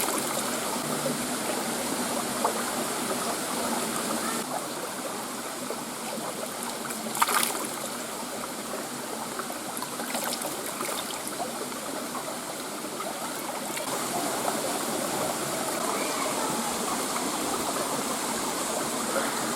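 Creek water on a hike near a waterfall rushes steadily and fairly close, a continuous broadband hiss of flowing water with small splashy variations and no talk.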